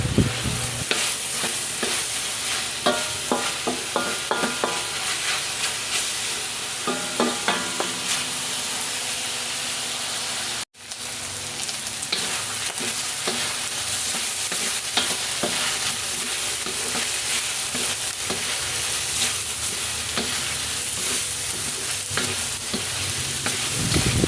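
Pork frying in a pan for dinuguan, a loud, continuous crackling sizzle with frequent stirring scrapes and clatters, close up and unbroken except for one abrupt momentary dropout midway, with no voices.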